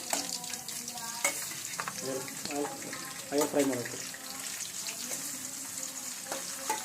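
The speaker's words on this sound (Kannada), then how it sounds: "ಇದು ಸ್ವಲ್ಪ ಫ್ರೈ ಆಗೋವರೆಗೂ ಬಿಡಬೇಕು" Chicken frying in a pan with tomato and chilies for a spicy chicken fry, sizzling steadily with intermittent stirring scrapes and clinks, and a voice talking briefly in the background.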